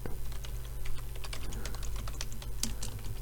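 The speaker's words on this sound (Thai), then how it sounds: "แล้วก็พิมพ์คำว่า Windows 10 Download" Computer keyboard typing a search for a Windows 10 download, a quick run of close, crisp key clicks over a low steady hum, with no voices.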